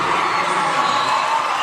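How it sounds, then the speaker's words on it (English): Loretto fans at a girls' basketball state championship give a huge ovation: dense, loud crowd cheering with whoops and shouts, continuous throughout. "That's why you got this huge ovation from the Loretto faithful"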